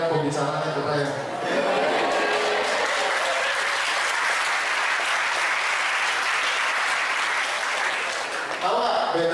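An audience at a talk or seminar in a hall breaks into loud, sustained applause that builds quickly, holds for several seconds with a dense clatter of hands, and then fades out.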